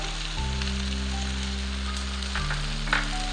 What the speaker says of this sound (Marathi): कांदा आणि टोमॅटो मस्तपैकी फ्राय झालंय, आपण त्यामध्ये खोबऱ्याचा कीस घालूया